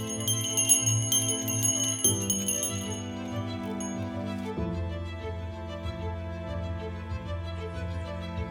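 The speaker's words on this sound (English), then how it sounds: "look at this original doorbell of the villa." An original doorbell at an old Tuscan villa near Siena rings with bright, sustained bell tones, struck in three successive chimes that layer and decay, close and clear with no talk.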